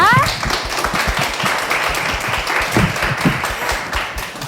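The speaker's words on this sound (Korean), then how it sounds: "여러분 큰 박수로 환영 부탁드립니다" Audience applause welcoming the Willbes police academy professors at an exam-success ceremony in Noryangjin, a broad steady wash of clapping lasting throughout, with a brief voice and some crowd noise mixed in at the start.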